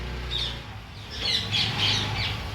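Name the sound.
parrots squawking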